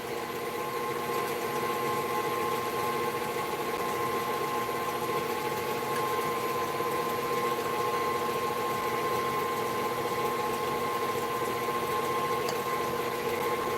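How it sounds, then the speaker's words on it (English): A KitchenAid stand mixer creams butter with a steady, continuous motor whir and hum that stays level throughout, with no talk over it. "all I'm doing with my KitchenAid is I'm just creaming my butter"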